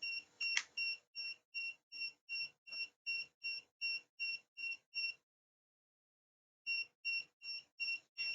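An emergency fire alarm buzzer beeps in a steady, evenly spaced series of sharp electronic tones, about a dozen pulses, then pauses briefly before the beeping resumes; loud and clear with no talking.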